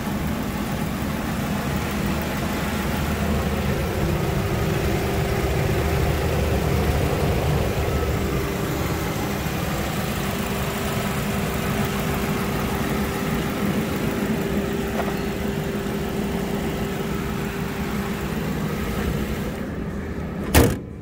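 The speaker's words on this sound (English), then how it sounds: "It's a running, driving car." A 2004 Mazda 3 hatchback with a 16-valve VVT engine and over 200,000 km idles in a steady, low, even hum for about twenty seconds, then a car door shuts with a short thump at the end.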